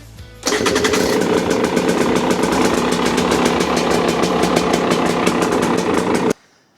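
A 2023 Husqvarna TE250 motorcycle engine runs close by at a steady, buzzing idle for about six seconds and then cuts off abruptly, leaving near silence; no one speaks.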